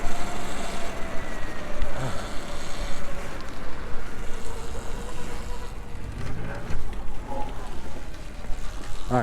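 A Sur-Ron electric dirt bike pulls hard under full throttle, its motor whine and rushing wind noise loud and continuous, with a steady rising tone and occasional shouts from the rider over it.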